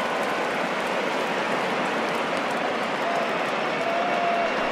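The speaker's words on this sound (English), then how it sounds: "we've mentioned the conditions aren't ideal with the rain coming down" Steady broadband hiss of rain falling on a ballpark in the baseball video game MLB The Show 20, continuous and even throughout with no talk over it.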